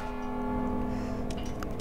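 A bell rings in the stealth video game Mark of the Ninja, sounding a steady sustained metallic tone that hums throughout with a few light ticking sounds near the end.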